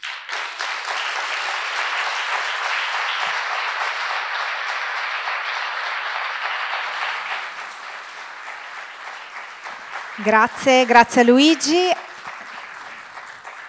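An audience at a thirty-year anniversary event for a family counseling center applauds steadily and fairly loudly for several seconds, then fades out, followed by someone speaking briefly.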